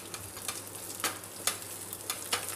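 Asafoetida, onion vadagam and curry leaves fry in oil for a black bean kootu, giving a soft, steady sizzle punctuated by light scraping stirs every half second or so. It is fairly quiet and has no talk.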